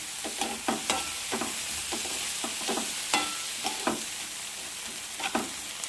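Onion, tomato and green chili frying in coconut oil in a pan for a masala omelette, a steady sizzle broken by repeated scraping stirs at an irregular rhythm, close and moderately loud, with no talking.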